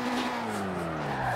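Car drifting sideways in Forza Horizon 4, a sustained tire squeal over a steady engine drone that slowly drops in pitch, held for a little over a second at a moderate, even level.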